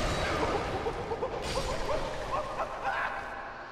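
Dog barks and yips from the Dark Souls 2 game, several short sharp calls scattered over steady game noise and a clash, with a voice faintly underneath.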